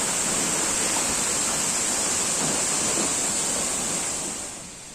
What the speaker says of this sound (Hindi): ये था वाटरफॉल।